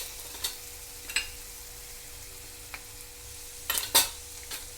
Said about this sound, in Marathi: मुळा किसून घेतलेला, छानपैकी मिरची त्याच्यामध्ये चांगली परतून घ्या तेलामध्ये।